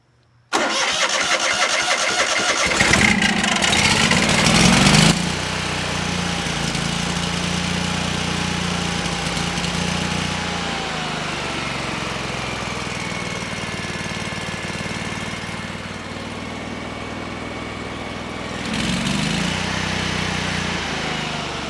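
The engine of a Lincoln Ranger 8 welder cranks and catches, roars briefly, then settles into a steady, loud idle that surges once more near the end, with no speech.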